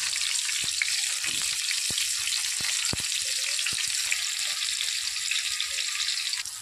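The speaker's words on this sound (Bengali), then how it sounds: "পটলটা দেওয়ার পরে উল্টে পাল্টে বেশ লাল করে ভেজে নিতে হবে।" Pointed gourd pieces fry in hot oil while being turned, giving a continuous loud sizzle with scattered short clicks and scrapes of a utensil against the pan.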